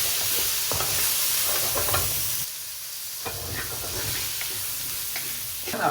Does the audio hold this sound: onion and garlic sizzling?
yes